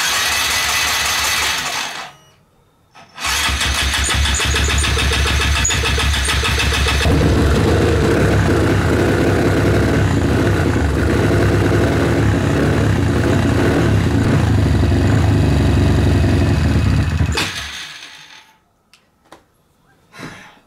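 A Honda Grom motorcycle engine fires up after a brief stall and then runs loud and close on held throttle, a steady buzzing drone lasting about fifteen seconds before cutting out.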